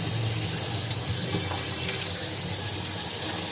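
Tap water runs steadily into a sink over cut potato cubes being rinsed, a continuous close hiss and splash with no pauses and no voices.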